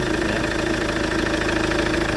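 A 2011 Chevrolet Captiva diesel engine idling after an oil change, a steady, loud, close clatter with an even rhythmic knock and no voices.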